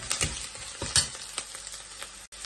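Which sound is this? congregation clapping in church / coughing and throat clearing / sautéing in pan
sautéing in pan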